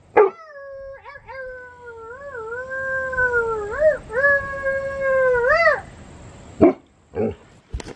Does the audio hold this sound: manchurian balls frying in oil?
no